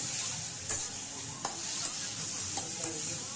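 Potatoes with ginger, garlic and chilli are stirred in a hot pan, giving a steady sizzle of frying broken by a few sharp scrapes and taps of the spoon against the metal.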